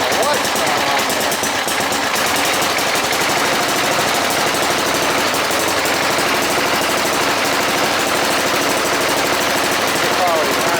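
A Bolens GroundsKeeper engine running rough on a cold start with the throttle raised, a loud, rapid, uneven knocking chatter that holds steady throughout.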